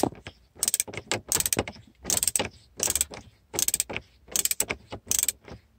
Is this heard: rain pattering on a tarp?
no